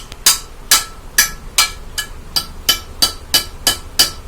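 Metal hammer taps on a Bajaj Discover 150cc motorcycle engine in a garage, about ten light, evenly spaced strikes at a steady rhythm, close and clear with no talk.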